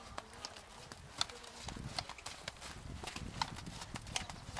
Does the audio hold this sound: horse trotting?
yes